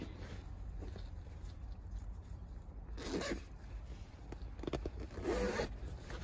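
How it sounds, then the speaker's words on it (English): A zipper on a leather rear bench seat cover of a 10th-generation Honda Civic is pulled closed in two quick, close, raspy strokes, with soft handling noise around them and no speech. "undo the Velcro, secure them, and then zip it back up."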